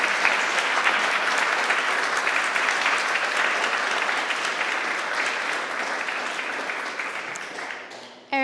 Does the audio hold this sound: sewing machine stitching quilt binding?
no